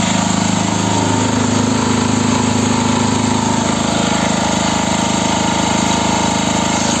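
A portable electric generator runs steadily up close, its engine drone loud and constant throughout with no talking over it.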